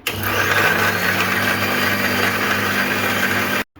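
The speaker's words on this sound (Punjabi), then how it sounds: "ਹੁਣ ਇਹਨੂੰ ਪੀਸਾਂਗੇ ਆਪਾਂ ਗ੍ਰੈਂਡ ਕਰਾਂਗੇ ਹਰੀ ਚਟਨੀ ਨੂੰ ਹੁਣ ਗ੍ਰੈਂਡ ਕਰਾਂਗੇ" Electric grinder blending green chutney made with green chillies, a loud steady motor whine with a low hum running continuously for over three seconds, then cutting off abruptly.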